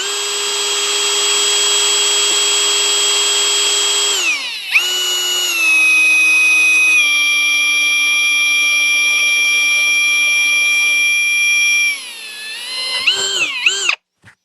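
AEG BSB18C3BL cordless hammer drill with a 5 mm bit drilling metal, a loud steady high whine that drops in pitch under load, holds, then winds down in stuttering surges before stopping.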